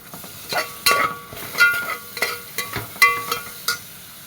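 Green chilies and ginger-garlic paste sizzle in a hot pan while a spoon stirs and clinks against the metal in a steady series of scraping taps.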